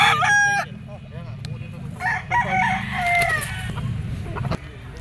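A yellow-legged white Kelso gamefowl rooster of Sweater bloodline crows loudly and close at the start, then lets out another drawn-out crow partway through, with faint murmurs and clucking in the background.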